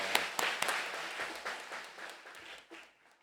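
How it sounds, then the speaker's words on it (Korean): A church congregation at a Korean worship meeting claps to welcome an elder to the front: a few sharp claps open into a brief burst of applause that quickly thins and fades within about three seconds. "박수로 환영해 주시기 바랍니다."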